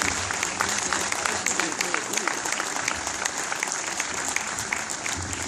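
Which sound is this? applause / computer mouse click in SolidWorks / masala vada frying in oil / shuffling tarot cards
applause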